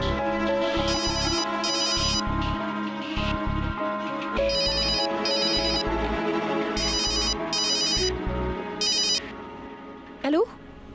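A telephone rings in repeated electronic bursts with pauses between them, over music and ambient sound, with a voice heard near the end.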